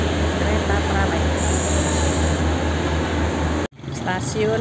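A Prameks passenger train in Indonesia rumbles steadily with a low hum and hiss, close by, then cuts off abruptly before resuming with faint squeals and chatter.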